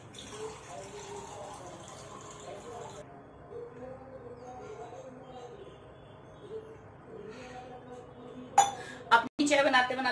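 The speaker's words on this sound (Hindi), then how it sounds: "तो अभी मैं पहले पानी पी लेती हूँ एक गिलास" A glass of water is poured in a home kitchen during morning chores, with soft trickling and light clinks of glass and dishes. Several louder clinks come near the end, and someone talks quietly over it.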